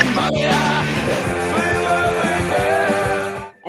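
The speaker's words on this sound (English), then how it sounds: "that is the sound of punk" Loud, dense rock music with distorted guitars and pounding drums plays continuously, fast and raw, cutting off abruptly near the end.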